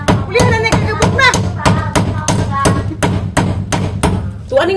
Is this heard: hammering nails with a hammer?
yes